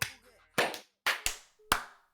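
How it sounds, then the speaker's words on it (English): A few sharp hand claps ring out in quick bursts, roughly five separate smacks spaced unevenly over about two seconds, close and fairly loud, with a brief voice at the start. "clap your hands."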